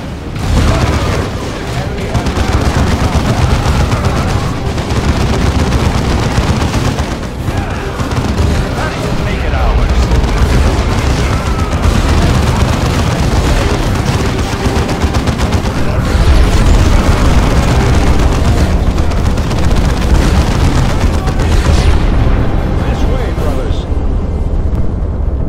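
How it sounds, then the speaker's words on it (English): Heavy artillery fire in Dawn of War 2 as Imperial Guard positions are shelled: dense, continuous booming and rumbling explosions fill the whole stretch, with voices talking over the barrage. "it's being used to call in artillery on the Imperial Guard"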